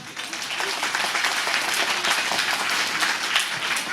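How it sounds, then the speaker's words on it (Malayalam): An audience at a public speech claps together in a sustained, dense wave of hand claps, fairly loud and even from start to finish, with a murmur of voices underneath. "നല്ലൊരു ക്ലാപ്പ് അടിക്കാൻ പറ്റുമോ"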